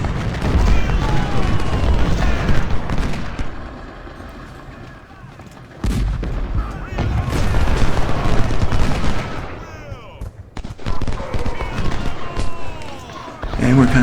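Dense musket and rifle fire from a Civil War video game set at the Battle of Gaines' Mill: sharp volleys and scattered shots crackle continuously over a rumbling battlefield din, loud and close, with speech mixed in.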